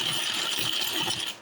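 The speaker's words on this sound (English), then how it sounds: "moving my keys around" Metal keys shift and jingle on a table at breakfast, a continuous close, light metallic clinking and rattling for over a second, with no talk.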